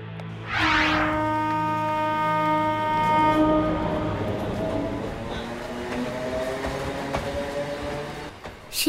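Train in a tunnel-train drama scene, opening with a loud horn-like tonal blast that settles into a steady, close rumbling roll of rail cars.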